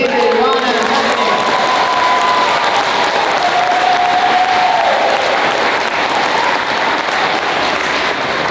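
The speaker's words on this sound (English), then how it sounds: "How about a round of applause for our MCs, David, Ron, and Stephanie." A school audience at an International School Vienna United Nations Day event gives sustained, loud, dense applause from start to finish, with a few raised voices blending into the clapping.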